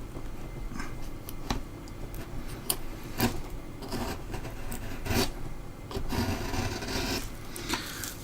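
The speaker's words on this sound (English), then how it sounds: "I'm not using my right arm to push the chisel at all" A hand chisel pared through wood while carving a dragon, heard as a steady, close rasping scrape marked by repeated sharp cutting strokes every half second or so, continuing with no talking throughout.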